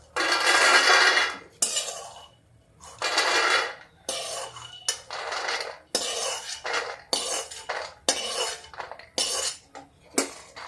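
Roasted peanuts are scraped from a kadhai wok onto a metal plate with a spatula, producing repeated loud rattling scrapes and clinks in bursts with short pauses in between.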